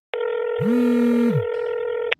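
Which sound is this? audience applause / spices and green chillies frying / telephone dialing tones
telephone dialing tones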